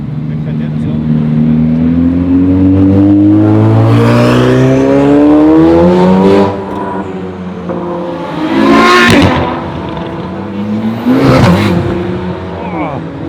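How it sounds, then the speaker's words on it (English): A Ferrari 488 Pista revs hard at a large Ferrari meet in Aarberg, with rising, falling engine sweeps and several sharp loud bursts, close by and very loud, while people talk beneath it. "now we got a loud 488 pista"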